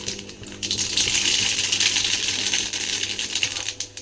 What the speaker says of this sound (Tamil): நம்ம கடுகு போட்டுக்கலாம்.